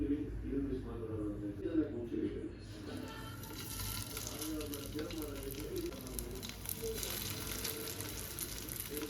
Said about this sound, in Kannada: ಎಣ್ಣೆಲೇ ಬೇಯಿಸ್ತಾ ಇದ್ದೀನಿ ನಾನು